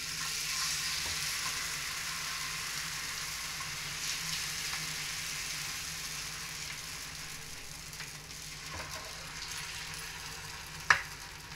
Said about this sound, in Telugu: దోశ వేసాం కదండి, మీద నుంచి ఆయిల్ కొంచెం వేస్తున్నాం.